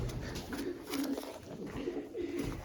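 Pigeons coo softly in repeated low, burbling phrases, several birds calling at moderate distance against a faint background hum, with no voices.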